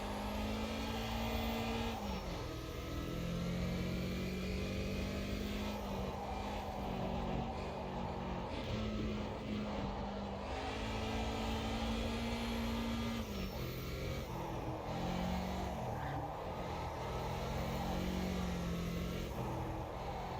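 A race car engine in the Automobilista 2 driving game drones steadily, with pitch rising and falling through gear shifts and revs across a sustained lap, loud and up close with no talking.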